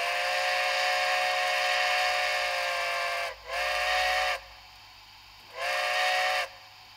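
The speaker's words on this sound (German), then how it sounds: "Ich finde eine sehr schöne Hupe." A Märklin model train locomotive sounds its horn in two separate blasts, each a steady, bright, harmonically rich tone of about a second, over a quiet hum in between.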